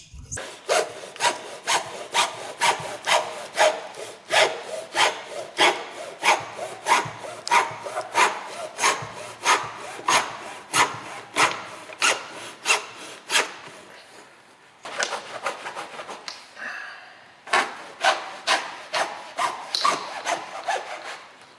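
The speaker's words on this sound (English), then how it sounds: "Is a good hacksaw I got here, and I'm just going to cut them right apart." Hacksaw saws through motorcycle boots in steady back-and-forth rasping strokes, close and rhythmic, with a brief pause and some shuffling before the cutting resumes.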